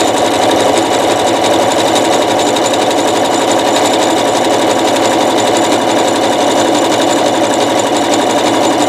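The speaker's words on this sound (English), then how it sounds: "even if you only have a zigzag stitch machine, you can do this" A zigzag stitch sewing machine sews a rope bowl, running loud, close and steady at full speed with a dense, unbroken mechanical rattle throughout and no talk.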